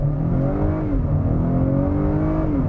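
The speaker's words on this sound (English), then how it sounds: "when I floor it" A 2020 Acura RDX turbocharged engine revs hard under full-throttle acceleration, a loud continuous roar with rising pitch sweeps as gears climb smoothly, no talking.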